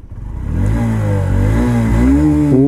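A 2023 Honda SP125 125 cc commuter motorcycle revs up from low and climbs through rising engine pitch, pulling steadily louder and close by, with no talk over it.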